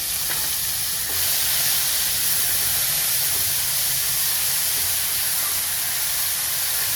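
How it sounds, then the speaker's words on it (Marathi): Finely chopped onion dropped into hot oil with ajwain, asafoetida and bay leaf, sizzling and hissing steadily for about seven seconds, a broad continuous fry with a louder surge after the first second and no voices. "आता त्यामध्ये आपण टाकणार आहे बारीक चिरलेला कांदा."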